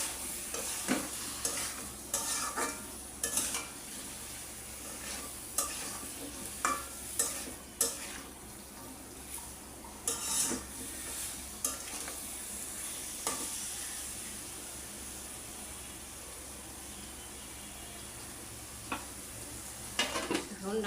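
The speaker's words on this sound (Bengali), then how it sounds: "এই পানিটুকু দিয়ে আমি একটু কষাই নিই।" Beans and potatoes stir-fried with a little water in a pot for a Bengali pabda fish curry, with repeated scraping stirs and clinks over a steady low sizzle, no talking.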